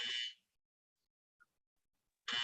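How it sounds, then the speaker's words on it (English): A competition timer sounds its warning buzzer in two short electronic bursts, one at the start and one at the end, with near silence between them. "this buzzer would be played at 3 minutes interval first as a warning buzzer"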